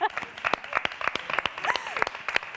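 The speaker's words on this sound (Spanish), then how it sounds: "claro que sí, un fuerte aplauso" Studio audience at a Spanish daytime TV show bursts into applause for a young flamenco fashion designer's parents, sharp dense clapping with scattered loud hand claps and voices mixed in.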